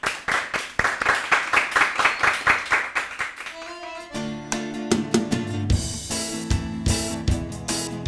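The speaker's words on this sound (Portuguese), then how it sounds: "para o aplauso de vocês." An audience claps in a quick, even rhythm for about four seconds, then music with a singing voice takes over.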